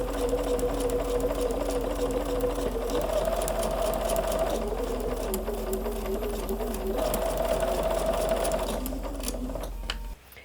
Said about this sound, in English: Put the foot down and sew right along that line, coming off at this point.